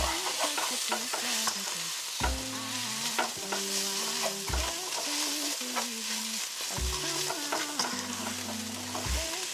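A spoon scrapes and stirs spiced vegetarian pilau in a hot pot, with pepper powder just added. Continuous sizzling runs under repeated stirring knocks against the pot, with soft melodic tones in the background.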